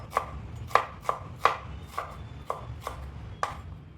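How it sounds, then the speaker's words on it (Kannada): A knife chopping onions on a board, eight crisp, evenly spaced taps over a few seconds, close and clear in a quiet room with no talking. "let me chop all onions."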